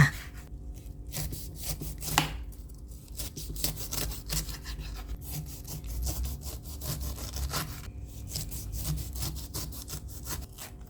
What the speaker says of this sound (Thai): เริ่มจากปอกเปลือกสับปะรดกันก่อนเลยค่ะ